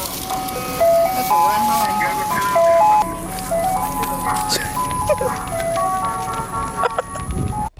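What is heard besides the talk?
ice cream truck jingle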